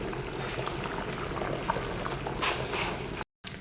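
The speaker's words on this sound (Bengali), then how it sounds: "অনেক সুন্দর বলক উঠছে" A pot of khichuri boils vigorously, giving a continuous bubbling, gurgling rumble heard close up, with a brief dropout near the end and no talking.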